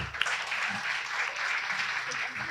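Faint audience applause greets a music group at an Indonesian independence celebration, a soft, continuous patter of clapping with a few murmuring voices underneath.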